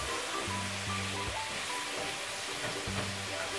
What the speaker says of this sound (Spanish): sofreír bien la cebolla con todos los ingredientes